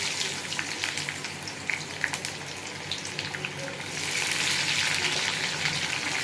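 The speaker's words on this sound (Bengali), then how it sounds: "পেঁয়াজটা একটু ভাজা ভাজা করে নেবো" Onions sizzle in hot oil in a wok along with dried red chillies and bay leaves. A dense, steady crackle swells louder toward the end, with a few light taps.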